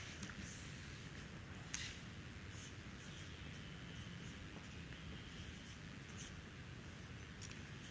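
Faint scratching of a marker or chalk writing on a board, short strokes repeating irregularly over steady background hiss.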